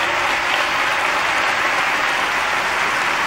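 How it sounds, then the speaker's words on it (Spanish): A concert audience applauds in honor of the singer's mother, a dense, steady roar of clapping that fills the whole stretch loudly and evenly. "les pido un aplauso para ella"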